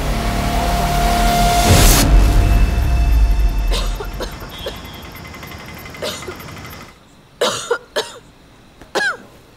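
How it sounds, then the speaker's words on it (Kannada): A person coughs repeatedly, several sharp bursts spaced out toward the end, following a stretch of loud, engine-like rumbling background noise. "ಬೆಳಗ್ಗೆಯಿಂದ ಒಂದೇ ಸಮ ಕೆಮ್ಮು."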